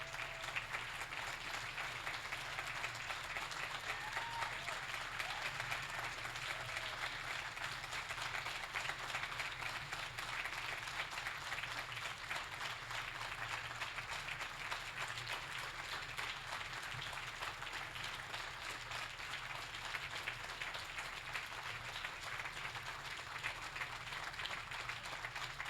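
Sustained audience applause welcoming award recipient Dr. Bill Korach at the 2024 Dr. Bill Korach Leadership Award presentation, a steady dense wash of clapping from a large crowd lasting throughout without a break.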